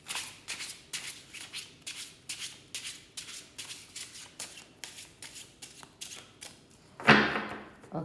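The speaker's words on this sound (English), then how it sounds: "let's clear the deck. Hopefully I won't be spreading the cards all over." A deck of cards riffled repeatedly in quick, crisp bursts close by, the rhythmic shuffling ending in a louder final cascade of cards.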